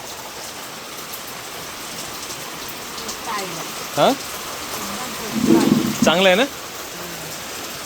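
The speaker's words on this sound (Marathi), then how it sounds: "पावसाने कहर केलेला आहे, अति पूर्ण भिजलं" A heavy monsoon downpour hisses steadily and loudly throughout, with a brief spoken exchange rising over the rain near the middle.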